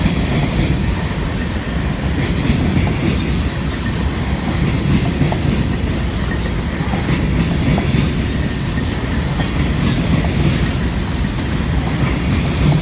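A steady, loud rumble of a long train rolling past, with continuous wheel noise and faint rhythmic clatter throughout; no voices.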